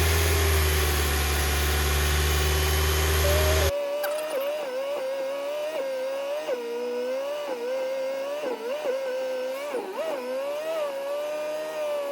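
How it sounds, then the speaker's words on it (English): A Kia Optima engine idles after PCV valve and fuel injector cleaning, with a steady mid-pitched hum that wavers slightly as the idle settles. A loud, broadband noise burst opens the first few seconds before the engine sound takes over. "once the car is able to fully stay idled, you can shut it off"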